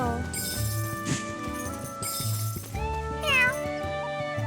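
A cat meows once, fairly short and clear, in the video game Adventures of Elliot, over soft background music with a few faint clinks.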